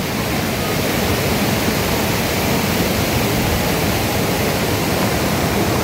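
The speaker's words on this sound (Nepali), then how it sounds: "पानी परिरहेको अवस्था" Rain pours beside the flooded Sardu river near the Miteri bridge, a loud, dense, continuous roar of falling water and rushing current with no pauses or voices.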